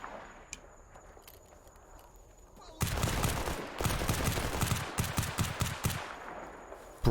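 Rapid automatic gunfire bursts in the video game Stalker Gamma, loud close fusillades following a quieter stretch of faint footsteps and ambience.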